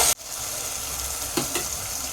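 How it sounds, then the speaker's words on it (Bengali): Fried potatoes drop into chicken braising in a pressure cooker, a loud continuous sizzle with a short sharp break at the start and a couple of soft thuds and clinks later. "আলুগুলো ভেজে রেখেছিলাম, সেই আলুগুলো আমি দিয়ে দিচ্ছি এর মধ্যে।"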